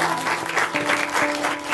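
A dense round of audience applause following a talk, continuous and fairly loud throughout.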